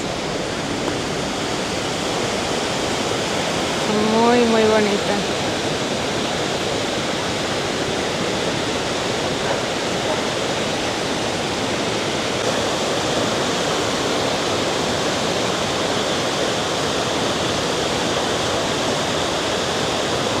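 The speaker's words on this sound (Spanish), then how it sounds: "Miren el agua que viene de los glaciares." Glacial meltwater stream at Blausee in Switzerland, rushing steadily and loudly throughout with a broad, continuous roar, while a voice briefly speaks over it near the start.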